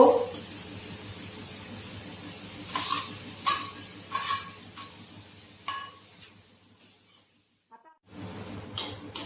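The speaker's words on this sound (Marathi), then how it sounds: "तेलामध्ये टाकूया बारीक चिरलेला कांदा," Finely chopped onion and tomato fry in oil under a soft continuous sizzle, with intermittent spoon scrapes and clinks against the pan before a brief quiet gap and renewed sizzling.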